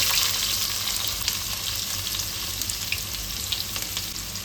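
Onions sizzle steadily in hot oil with cumin seeds, cinnamon pieces and curry leaves, a close, continuous crackling fry with faint stirring and no voices.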